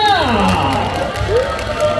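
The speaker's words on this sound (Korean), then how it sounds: "여러분들의 힘찬 박수가 필요합니다!" Festival crowd at an outdoor stage event cheering and clapping, loud and dense, with shouts and whoops rising over the applause and a voice carrying through.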